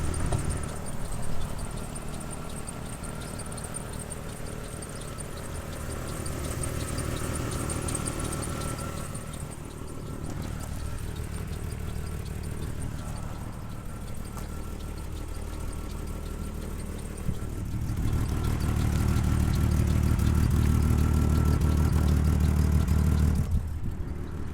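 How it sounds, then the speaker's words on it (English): A lifted 2001 Jeep Cherokee 4x4 idles with an exhaust leak, a steady close engine drone with faint rapid tapping, the rumble growing louder near the end. "It's definitely got an exhaust leak. I hear some tapping going on."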